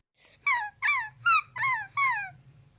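A dog whimpers in five rising-and-falling whines, close and clear, one after another over a low steady background rumble, with no talking.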